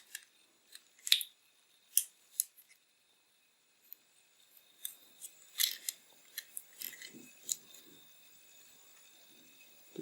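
A microSD card is pushed into the slot of a Zoom H1 handheld audio recorder, giving a scattered series of small, sharp plastic clicks and scrapes close to the mic, with quiet handling noise between them.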